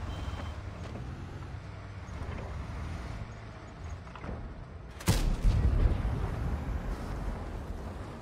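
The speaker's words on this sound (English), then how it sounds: "It's got a good gun sound" The GSOR 1010 FB tank fires its main gun in a video game: a sudden, loud blast that cuts through a low engine rumble and trails off into a rolling, booming tail, heard once with no talking.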